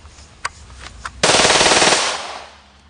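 .380 pistol fire at a target: a loud, rapid burst of close gunshots lasting under a second, followed by a decaying echo, preceded by a couple of faint clicks.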